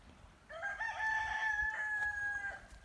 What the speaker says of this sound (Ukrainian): Ой, це в нас півник Легорн. Новий кукурікає.